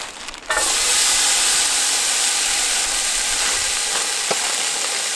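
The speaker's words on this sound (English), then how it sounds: "we're going to tip in our stir fry veg." Stir-fry vegetables tipped into a hot pan over a campfire burst into a loud, steady sizzle and hiss that starts abruptly and holds without letup, with a faint clink or two near the end.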